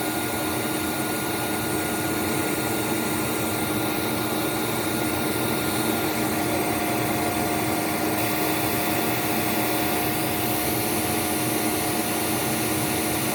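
A Hoover C2401 backpack vacuum cleaner runs steadily and loudly up close, a constant broadband motor roar with faint whine tones, unbroken for the whole stretch with no talking.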